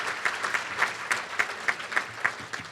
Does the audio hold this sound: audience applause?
yes